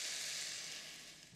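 Onions frying in a pan for a lamb stew, a steady bright sizzle holding evenly throughout, close and moderately quiet, with no voices.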